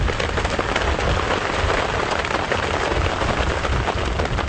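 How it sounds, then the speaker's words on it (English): Heavy rain pours steadily on a safari drive at Djuma Game Reserve, a dense, loud, unbroken wash of drops with gusty wind rising beneath it, no voices over it. "the wind's picking up a little bit now, and we've definitely got some more and bigger rain coming in"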